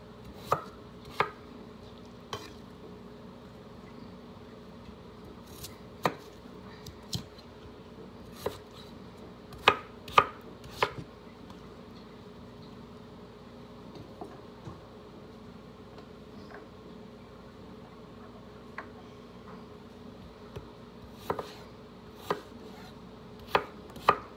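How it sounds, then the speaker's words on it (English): Knife strikes on a cutting board, sharp scattered chops at an irregular pace against a quiet hum, with no talking. "A lot of chopping here."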